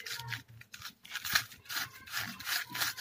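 Rhythmic gritty rasping, sandpaper twisted and scraped in repeated strokes inside a hollow PVC pipe, close and fairly quiet.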